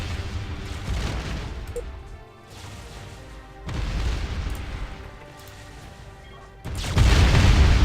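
Repeated heavy bombardment booms from ships in the space strategy game Distant Worlds Universe, several loud low blasts rolling one after another with a sharp, powerful impact near the end.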